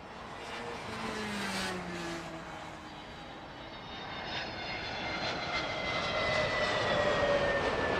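An EgyptAir A320neo-family airliner passes at Heathrow Airport, its engine roar steady and building over several seconds on a hot day, fairly close with a rising whine and no voices.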